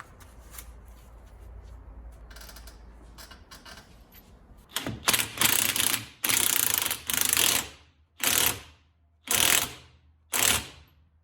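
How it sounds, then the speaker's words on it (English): A ratchet clicks in repeated bursts while tightening a suspension nut on a Toyota Celica, faint at first and then loud, close, rapid rattling strokes in about seven spaced pulls separated by short pauses. "So let's go ahead and tighten this thing up."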